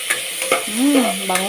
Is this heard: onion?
yes